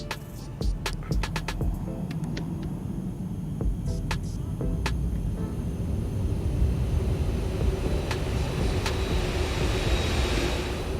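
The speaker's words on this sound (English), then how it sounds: "Reversers finally came out." A Boeing 747-8F deploys its thrust reversers on landing in X-Plane 12, a steady, deep engine roar and rumble swelling gradually, with a few sharp clicks and taps near the start.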